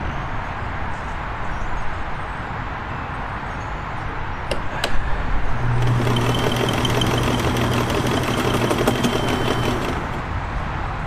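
A Kenmore 1410 sewing machine runs a stitch test with a faulty cam selector that yields only one stitch pattern. A steady, even mechanical whir and rapid needle clatter fill the second half, close by, with no talking.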